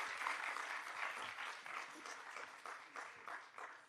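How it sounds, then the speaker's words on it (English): An audience at an AI ethics forum applauds a panel, a steady wash of clapping from many hands that swells and fades slightly over several seconds, heard at a moderate distance with no voices over it. "They deserve a very great round of applause."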